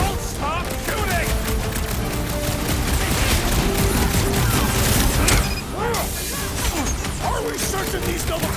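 Gunfire and combat clatter from the Guardians of the Galaxy video game, with dense shots, crashes and mechanical noise running almost continuously and loud, briefly thinning near the middle, with voices mixed in.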